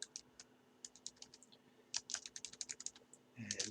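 Fast, close typing on a computer keyboard, entering text into a report label, with bursts of crisp keystrokes and brief pauses, quiet but clear.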